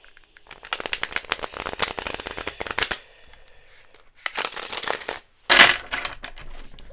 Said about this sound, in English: I'm going to shuffle the deck and clear the energy